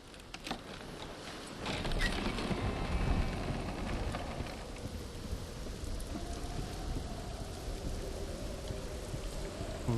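Heavy rain pours steadily in a stormy setting in the video game Hellblade: Senua's Sacrifice, with a deep rumble of thunder swelling early and then settling into a continuous wash of rainfall.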